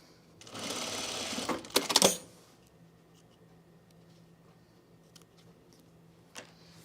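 A sewing machine runs a short seam on a Deer and Doe Sirocco jumpsuit, stitching inside the seam allowance in one close burst of about two seconds. A few faint clicks follow in near silence.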